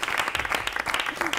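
Applause from a studio audience following a card magic trick on a television segment, a dense steady patter of clapping filling the short stretch with some voices mixed in.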